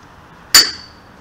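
A hammer strikes a thunder egg wrapped in a sock once, a single sharp, loud crack with a brief ringing tail, heard alone.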